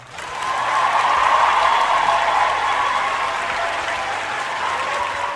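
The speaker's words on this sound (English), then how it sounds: "Brother, round of applause." A round of applause from an audience, dense continuous clapping that swells quickly and holds steady at full volume before slightly easing.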